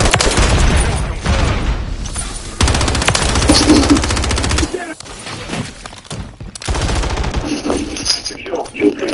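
Heavy automatic gunfire in a Call of Duty match, loud overlapping bursts with brief pauses and impacts, mixed with game sounds and voices talking over the action.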